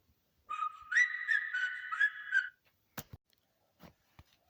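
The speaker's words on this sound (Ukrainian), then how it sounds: "натискаючи на кнопку, що производиться звук свистуна, і вони приходять на цей звук" A whistle sound effect from the Talking Tom mobile game, triggered by a button to call characters, plays as a single sustained two-tone whistle lasting about two seconds, followed by a few soft taps and clicks.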